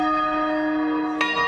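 A church bell rings out for King Charles III's coronation, one sustained, ringing tone with rich overtones that hangs steadily, followed by a brief fresh strike near the end.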